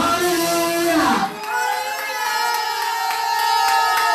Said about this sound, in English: Clap your hands and shout hallelujah.